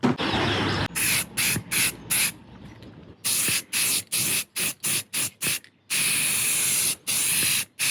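Close, loud hissing bursts from a spray can of flexible filler on a Honda Civic Type R FN2 body kit, sprayed in repeated pulses of varying length with brief gaps, no voices.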